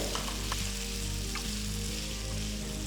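Potatoes and roughly chopped tomato frying in a pot for aloo pulao, giving a steady, dense sizzle with a few soft stirring clicks over about three seconds.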